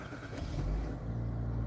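A car engine turning over and catching, settling into a low steady idle rumble that sounds close and fairly loud, with no talking over it.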